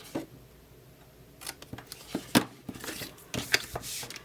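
Scissors snip roughly through the center of a cardboard box flap and then trim off the top flap, giving a series of short, crisp cuts and crackles heard close up with no talking.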